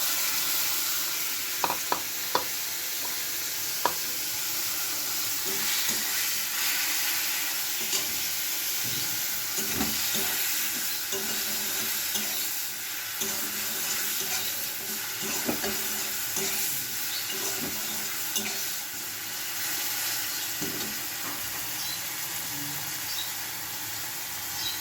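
Malabar spinach frying in hot oil gives a steady, loud sizzle throughout. Occasional stirring scrapes and soft knocks sit over the hiss.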